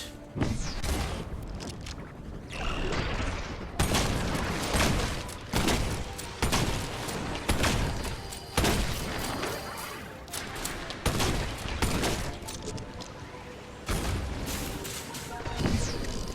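Repeated loud explosive booms from an oil grenade in the video game Wizard With A Gun, several heavy bursts spaced through the clip over dense game music and effects.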